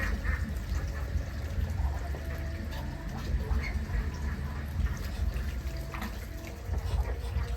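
Muscovy ducks shuffle and murmur inside their cage, a dense steady bed of low scuffling and water-like splashing with faint scattered calls throughout.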